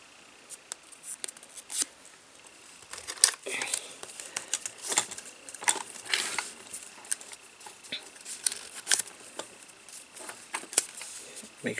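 Cardstock being glued and folded over Tyvek while making a miniature dollhouse 3-ring binder, heard as soft, close crinkling, tapping and scraping handling sounds in irregular bursts without speech.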